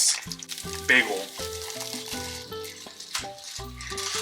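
Bagel toasting on a small griddle, a soft sizzle and frying crackle running under background music with brief bursts of clatter.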